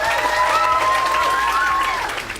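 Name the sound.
audience applause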